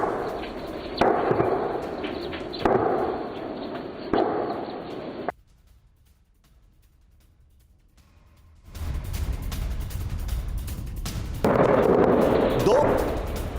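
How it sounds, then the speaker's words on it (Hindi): Gunfire from a militant encounter near a hideout in the Poonch forests, heard as a noisy field recording with sharp reports, a quiet gap, then a loud roaring stretch of heavy firing. "आतंकियों की तरफ से फायरिंग हुई, सुरक्षा बलों पर ताबड़तोड़"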